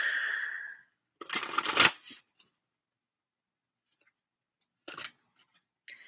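A deck of Elemental Oracle cards is shuffled in short, quiet bursts of riffling and sliding, separated by silences and a few faint clicks.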